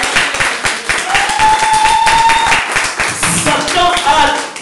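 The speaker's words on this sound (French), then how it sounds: "Acclamons Jésus, c'est comme ça" A church congregation claps together in steady, dense applause throughout, with voices and a sung or sustained tone riding over the rhythmic hand claps.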